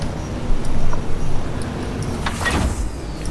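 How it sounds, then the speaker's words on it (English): A Mohandas vehicle in Dune Awakening is pushed to full power across flat sand, a loud, steady engine roar and rumble that swells briefly, with whooshing texture late on and no talk. "Push our Mohandas engine to the max."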